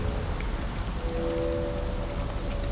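Steady rain falls and patters on surfaces in the video game Detroit: Become Human, a dense, even hiss of raindrops with a faint low tonal hum underneath.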